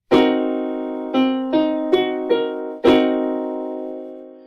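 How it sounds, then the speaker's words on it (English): A sustained piano half-diminished seventh chord rings out, then its notes are played one at a time in ascending order before the full chord strikes again and slowly fades. "This is called a half diminished 7."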